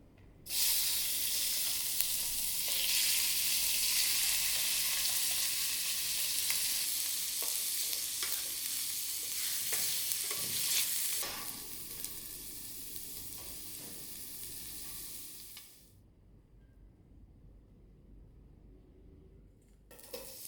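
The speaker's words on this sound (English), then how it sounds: "Start by sautéing the meat." Meat sautéing in a pan for Japanese curry rice, a loud steady sizzle and hiss with occasional stirring scrapes that holds for about fifteen seconds, then drops away to near quiet.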